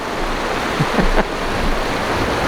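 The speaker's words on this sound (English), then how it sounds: "That is river rapids." Creek rapids on rural property, a steady broadband rush of churning water that stays loud and continuous throughout with no voices.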